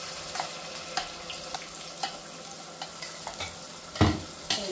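Spices with grated coconut and cardamom being stirred in a pan for a Nanded-style chicken curry, with a low steady sizzle broken by a string of light scraping strokes and a louder clatter near the end.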